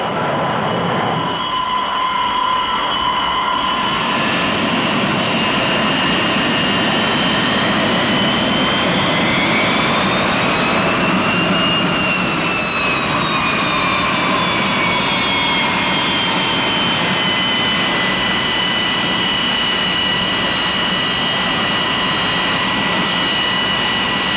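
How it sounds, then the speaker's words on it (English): A carrier on-board delivery propeller plane drones loudly and steadily as it approaches an aircraft carrier, its pitch rising and then easing off as it passes. The roar is continuous. "The approach of the carrier on-board delivery plane is a welcome sight"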